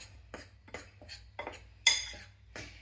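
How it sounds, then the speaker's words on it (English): Brownie batter with baking powder and salt is stirred in a bowl, with a utensil scraping and clinking against it in quick close strokes over a low steady hum. "You just want baking powder and a little bit of salt. Just mix it up."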